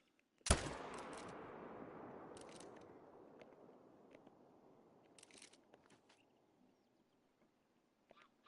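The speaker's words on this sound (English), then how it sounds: "So we are gonna shoot that guy" A single sharp gunshot in a video game snaps out close and fades away over several seconds, followed by faint scattered clicks.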